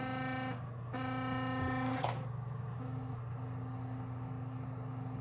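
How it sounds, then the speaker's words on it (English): An electric toothbrush with its head removed runs with a steady mechanical buzz and high harmonic whine, briefly changing pitch and rattling partway through before settling back to a continuous drone. "my freaking toothbrush is turned on"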